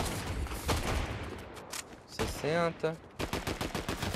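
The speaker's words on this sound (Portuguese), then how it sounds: "Tô atirando junto." Gunfire in a multiplayer shooter video game, dense rapid bursts of shots at the start and end, mixed with other game effects and a short spoken callout.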